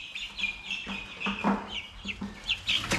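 Chickens on a homestead cluck and squawk close by, in a busy, irregular run of short calls with a few sharper high notes over a steady farmyard background.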